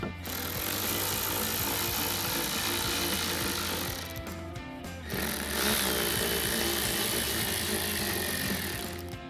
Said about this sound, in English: So we'll just remove that with our T20 Torx bit.